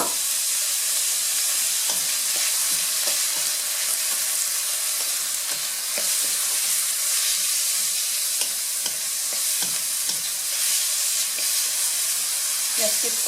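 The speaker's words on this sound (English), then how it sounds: "Just keep stirring." Teriyaki salmon with rice noodles sizzles steadily in a pan while being stirred, a constant bright frying hiss with soft scraping and clicking from the stirring, close and continuous.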